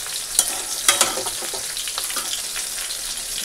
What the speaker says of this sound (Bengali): পেঁয়াজ ফোড়ন দিয়ে বসিয়ে দিয়েছি